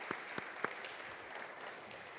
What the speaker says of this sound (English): Can we all clap for my co-moderator,